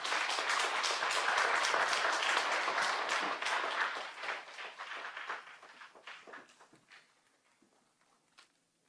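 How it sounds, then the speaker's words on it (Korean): Applause from a church congregation greeting a pastor as he comes forward to teach, dense clapping at first that thins out and fades to scattered claps and near-quiet. "박수로 모시도록 하겠습니다."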